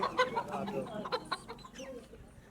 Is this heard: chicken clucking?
yes